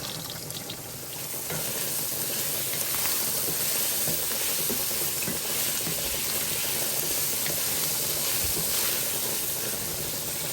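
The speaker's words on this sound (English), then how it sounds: "I just heated up some oil and started tossing in the squash." Breaded squash frying in hot oil, a loud continuous crackle and hiss that keeps up without pause.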